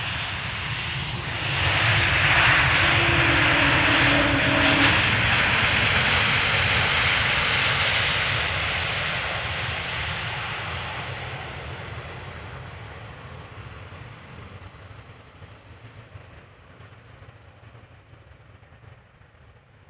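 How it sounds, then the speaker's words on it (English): An Embraer E2 195 jet arriving at Amsterdam Schiphol from Copenhagen swells into a loud engine roar within a few seconds, holds, then slowly fades into the distance as it passes, with no voices. "This is an Embraer E2 195, by the way,"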